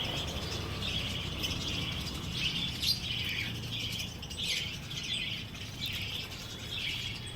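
A colony of lovebirds and budgerigars chirps at feeding time, a dense, continuous chatter of overlapping high tweets and squawks at moderate distance.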